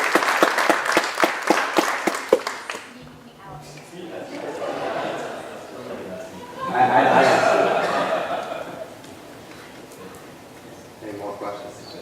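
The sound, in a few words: applause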